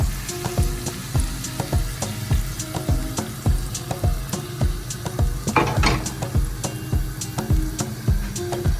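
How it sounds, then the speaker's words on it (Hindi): Hot oil tempering with green chili hissing and crackling steadily up close as it is poured onto sarson ka saag, with a brief louder sizzle burst partway through and light rhythmic clinks of a utensil. "देखिए ये तड़का जो तैयार किया था ये इसके ऊपर डालने के"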